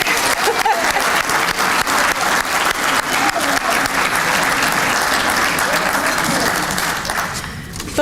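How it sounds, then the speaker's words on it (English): Banquet crowd applause for award recipients, loud, dense clapping from many hands held steady for about seven seconds before tapering off at the end. "yeah, let's clap it up."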